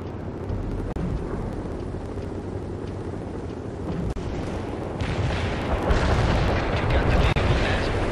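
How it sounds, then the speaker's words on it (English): Heavy rumbling booms and blasts from a mortar strike in the video game World in Conflict, a continuous roar of explosions that swells louder toward the end. "This is Zulu Niner mortar strike inbound."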